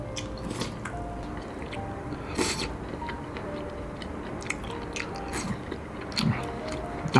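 Stir-fried spider conch meat in a seafood sauce being chewed up close, a soft, steady run of wet biting and mastication with faint clicks, no one talking.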